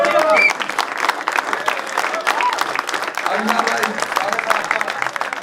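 Enthusiastic applause from an audience at a shayari poetry gathering, loud and continuous clapping throughout while a voice speaks over it near the start and a few crowd voices rise beneath.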